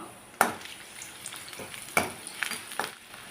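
Garlic frying steadily in coconut oil in a pan, with a few sharp clinks and scrapes of a spoon stirring at intervals; no voices.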